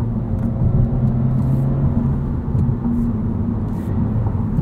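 A 2022 Honda Civic Si engine drones steadily from inside the car while driving, a low, even rumble with road noise that holds throughout.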